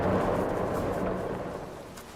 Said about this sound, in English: Is that the rain hitting the ceiling, the roof?